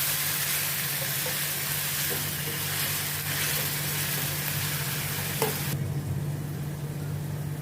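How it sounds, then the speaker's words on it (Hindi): Chopped onions sauté in a hot pan, giving a loud, steady sizzle and frying hiss that runs close and unbroken with a few faint stirring scrapes. "इसमें मैं भी ये फाइन चॉप किया हुआ प्याज डालती हूँ, अनियन डालती हूँ। इसको भी अभी मैं थोड़ा सौटे करती हूँ"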